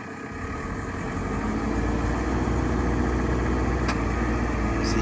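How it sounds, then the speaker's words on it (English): A 2011 JCB 3CX14-4 backhoe loader runs with a steady, loud diesel engine drone that holds throughout, nearby and without talk, with a brief faint click near the end. "See you stand it up here and check the backhoe."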